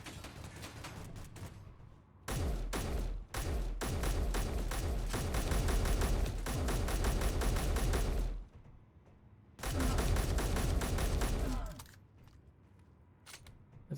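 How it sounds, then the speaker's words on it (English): Rapid automatic gunfire in the Space Engineers video game, long sustained loud bursts of fire broken by short pauses, with a few isolated single shots around them. "Robert, shoot the man."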